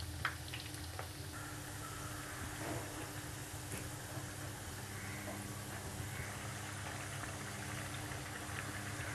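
Dahi vada frying in moderately hot oil until golden, a steady, dense bubbling hiss that stays even throughout, with no talking.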